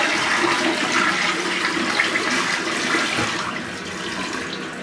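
A toilet flushes in one sustained, loud rush of water that stays strong for several seconds and then eases slightly toward the end. No one speaks over it.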